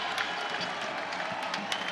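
Cheering basketball crowd at Lloyd Noble Center as fans rise to their feet during an Oklahoma comeback against Georgia Tech; a continuous, fairly faint wash of arena crowd noise with scattered claps and shouts.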